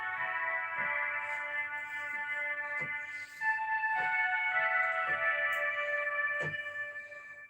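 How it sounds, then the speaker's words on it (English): Oboe stop on an electronic organ: a reedy, nasal sustained melody of held notes moving step by step, with soft key clicks marking each change, steady and fairly close. "An oboe sounds like this."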